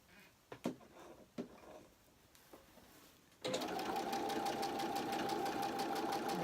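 A sewing machine stitches an appliqué corner, starting after a few light clicks and handling sounds, then running in a steady, fast, close-up mechanical whir with no talking.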